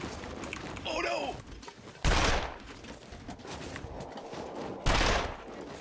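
Bursts of video game gunfire crack out in two loud, sharp volleys amid busy in-game noise, with a voice talking briefly between them.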